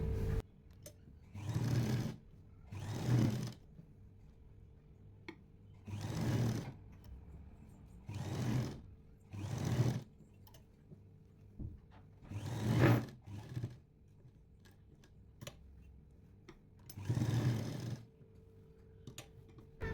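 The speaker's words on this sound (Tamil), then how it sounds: "ஒரு அமுக்கு தையல் போட்டு கழுத்து ஷேப்புக்கு தைச்சிடலாம்" A sewing machine stitches a kurti neckline in short, loud whirring runs of a second or two each, separated by quiet pauses, close up with no speech.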